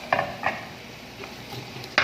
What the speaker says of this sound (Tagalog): Ginigisa lang natin tong sibuyas at saka bawang.